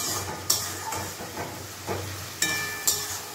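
Onions frying in a pan with ginger-garlic paste, cumin powder and a splash of water for a mutton curry, a soft steady sizzle with periodic scraping stirs of the spoon.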